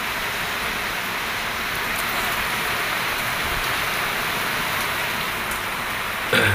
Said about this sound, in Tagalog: Na ulan, malakas ang ulan.